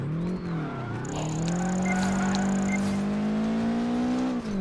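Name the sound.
race car drifting with tires skidding, Project Gotham Racing 4 video game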